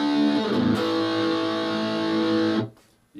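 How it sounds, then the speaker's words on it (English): An electric guitar played through overdrive distortion rings out in a thick, sustained chord with a strummed change partway through, holding loud and steady before cutting off abruptly into near silence. "This is guitar with overdrive or distortion."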